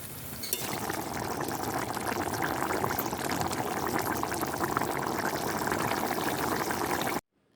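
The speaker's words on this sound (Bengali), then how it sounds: "এবার এর মধ্যে আমরা ঝোলের জন্য পরিমাণ অনুযায়ী জল দিয়ে দেব" Water streams steadily into a pan of spiced vegetable curry to make gravy, a continuous close pouring and bubbling rush that cuts off sharply at the end.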